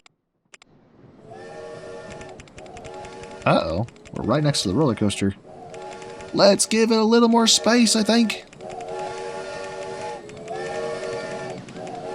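Roller coaster trains rattle along the track in the park game OpenRCT2, a steady mechanical rumble with tonal whistling swells in the middle, while someone talks over parts of it.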